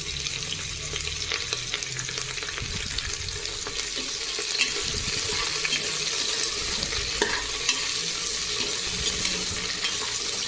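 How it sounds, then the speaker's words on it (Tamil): Two chopped large onions frying in a pan for veg biryani give a loud, steady broadband sizzle with occasional stirring scrapes throughout, close by and without talk. "ஸோ இப்போ பார்த்திங்கன்னா நான் ஆனியன் ஆட் பண்ணுறேன்"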